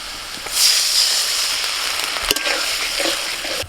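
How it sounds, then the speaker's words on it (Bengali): A sudden loud hiss erupts as water hits frying vegetables in a hot pan, settling into steady close sizzling and bubbling with a faint stirring clatter. "এখন এর মধ্যে আমি একটু জল দিয়ে দিচ্ছি"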